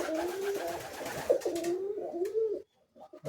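Pigeons on a farm give repeated throaty coos, close and fairly loud, in a rolling rhythm that breaks off near the end with a few short sounds.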